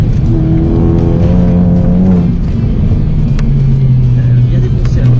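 A tuned VW Golf 7 GTI Performance with a stage 2+ engine revs in the mountains, a steady, loud, droning exhaust note with rising and falling engine tones running continuously, close to the listener.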